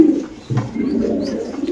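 Pigeons coo in low, throaty murmurs at a pigeon farm where red lowri and Spanish pigeons are kept, a steady overlapping bubble of calls close by with no talk.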